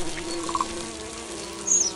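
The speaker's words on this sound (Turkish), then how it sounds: "Yine bir sinek." Brief, faint fly buzzing in a video game, with a couple of short high whines over quiet background hum.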